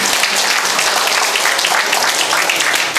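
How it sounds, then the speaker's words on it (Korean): Dense, continuous applause from a ceremony audience at a Korean memorial association's chairman inauguration, steady and fairly close for a few seconds. "다시 한번 큰 박수 주시기 바랍니다."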